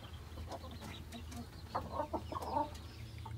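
Brahma hen and other chickens cluck softly in a coop, faint scattered clucks and short calls coming in small bursts over a low steady background hum.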